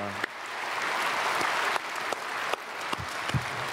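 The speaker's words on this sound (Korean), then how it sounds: "우리 크게 박수로 환영하겠습니다." A church congregation at a Sunday worship service applauds to welcome newly registered members, a steady, full round of clapping from a large crowd filling the room throughout with a few sharper claps standing out.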